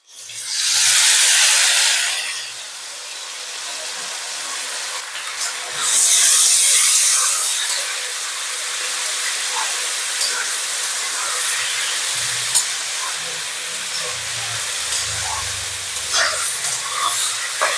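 Potatoes half-fried in a pan with banana flower mixture added, giving a steady sizzling hiss with louder frying bursts early on and faint clinks of stirring, no talking.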